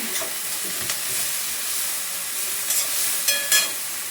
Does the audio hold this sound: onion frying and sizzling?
yes